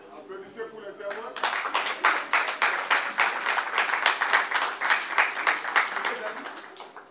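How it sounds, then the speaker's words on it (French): Applause at a civil wedding ceremony, honouring the witness: dense clapping from a gathered crowd starts after a brief murmur and stays steady and close throughout. "Applaudissez pour le témoin."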